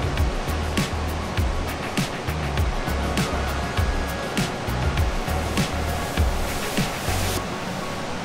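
Ocean waves break and wash in continuously along a shore, a loud broadband roar with repeated surging swells and no speech over it.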